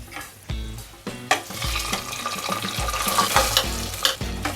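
Hot tempering with fried cashews is tipped into pongal, which sizzles sharply while a spoon stirs and clanks against the pot in repeated close scrapes, with no voices.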